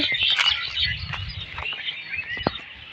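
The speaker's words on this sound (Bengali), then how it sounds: "গাছের মধ্যে পাখিও বসে আছে শুধু কিচিমিচি কিচিমিচি করছে" Birds chirping in trees, a cluster of high quick tweets and twitters in bursts, moderately close, with soft low rustling underneath and no speech.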